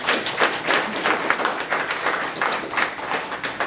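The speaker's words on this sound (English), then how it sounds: "You can clap for it." An audience gives a Mother's Day message dense, sustained applause. Many hands clap evenly at close range, steady and full throughout with no voices on top.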